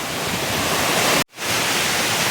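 Mettuguda waterfall at Seethampeta roars as a steady, loud broadband rush of falling water, with one brief dropout midway before the torrent resumes unchanged.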